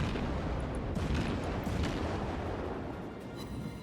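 Naval gunfire from warships in World of Warships, a dense, continuous rumble of booming shots throughout, loud and unbroken with no clear gaps between blasts.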